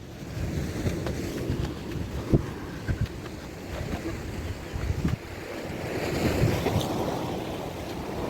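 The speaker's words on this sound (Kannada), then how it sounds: "paradise beach view" Ocean surf rolls in at Paradise Beach, Gokarna, a steady low roar of breaking waves with swelling surges, mixed with gusty wind buffeting the microphone.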